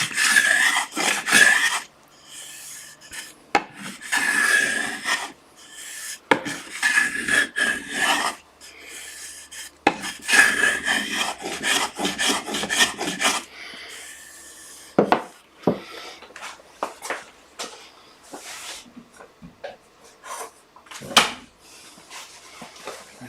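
Rasping strokes of a hand sanding block with 150-grit sandpaper on wood while updating a storage unit, in bursts of close, steady back-and-forth scrubbing separated by short pauses, with lighter scuffs and taps toward the end.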